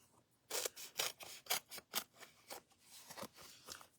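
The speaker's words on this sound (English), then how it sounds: "This is like just a big adhesive sheet, right? So I just cut it into strips." A thick foam adhesive sheet is cut into strips with scissors: a run of crisp snips and crunchy cuts, roughly two per second, up close and fairly quiet, with no talking.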